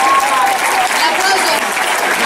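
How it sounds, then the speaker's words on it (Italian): Audience applause at an outdoor Pariglie horseback display in Sassari, a steady dense clapping from a crowd that holds for about two seconds without a break. "L'applauso a tutto il pubblico"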